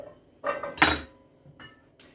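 A knife chops butternut squash slices into chunks on a board, with a couple of hard close knocks and a clack of blade against the surface, followed by softer, quieter taps.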